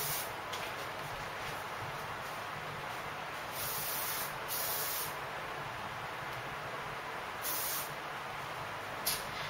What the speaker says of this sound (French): On peut même essayer en mettant du spray, puis on va monter les boucles comme ça.